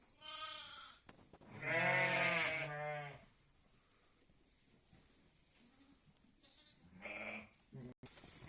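Sheep returning from water bleat loudly nearby in a village, a couple of long wavering calls followed by quieter bleats from the flock, with some faint farmyard background.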